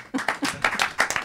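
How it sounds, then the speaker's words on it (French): A small audience claps at a neighbourhood talk show, a short burst of scattered, uneven hand claps, close and moderately loud, lasting just over a second. "on l'applaudit."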